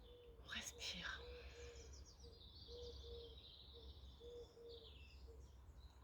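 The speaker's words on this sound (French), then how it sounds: "Écoutez les petits oiseaux." Small birds chirping and singing faintly outdoors over a low background hum, with brief soft sounds near the start.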